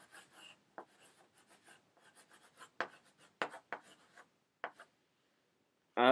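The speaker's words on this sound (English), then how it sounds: "I figured out how I can write on this bullet, but it's chocolate" Scratchy, intermittent strokes from writing on a chocolate bullet come up close and fairly faint, in short irregular bursts with pauses, and no talk over them.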